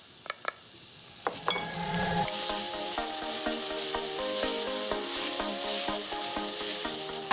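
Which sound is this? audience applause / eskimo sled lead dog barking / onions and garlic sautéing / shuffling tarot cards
onions and garlic sautéing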